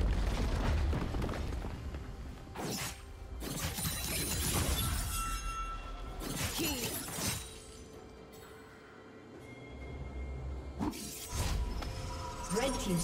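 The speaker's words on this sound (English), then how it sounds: "Red team's turret has been destroyed." A turret destroyed in League of Legends gives repeated loud crashing, shattering bursts and booms with clinking debris, spread across the clip and overlapping with voices.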